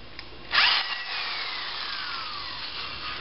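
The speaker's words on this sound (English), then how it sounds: "Oh, forgot to drill a pilot hole." A power drill bores a pilot hole through plywood into a 2x4 for formwork: a brief sharp bite at the start, then a steady whirring grind with a falling pitch, close and moderately loud.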